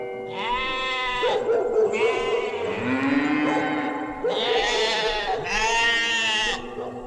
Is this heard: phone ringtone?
no